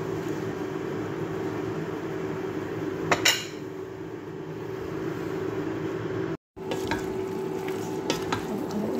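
Shrimp sizzle in a pan with lemongrass as a utensil stirs them, a steady frying hiss broken by a few sharp scrapes and clinks against the pan and one brief dropout.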